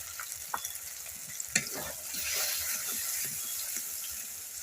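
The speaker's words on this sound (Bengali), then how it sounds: "অল্প করে পরিমাণ মতো হলুদ দিয়ে মশলাটা ভালো করে কষিয়ে নেবো।" A spice paste of turmeric, yogurt, mustard and nuts being sautéed for a prawn malai curry, crackling softly in the pan while a spoon scrapes and taps against it. The sizzle grows fuller halfway through. No one speaks.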